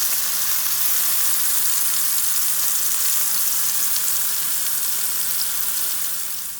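Steak fries in a pan, giving a loud, continuous hissing sizzle that stays steady and close throughout, with no talking over it.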